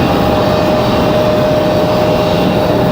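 A United airliner arrives at Raleigh-Durham International Airport, its jet engines giving a steady, continuous roar that holds loud and even for the whole stretch, with no talking over it.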